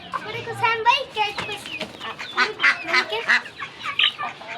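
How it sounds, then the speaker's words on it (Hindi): Chicks and baby ducks calling together, a busy stream of close peeping and cheeping chirps with some quacking, with a voice talking over them. "हमारे चिक्स देखने कितने बड़े हो गए हैं। चिक्स और डाक बेबी"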